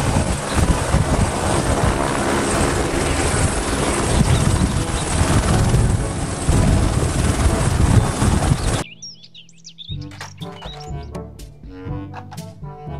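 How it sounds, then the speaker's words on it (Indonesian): A helicopter's steady rotor and engine roar fills most of the clip, loud and continuous, then cuts off abruptly and gives way to music. "Helikopter."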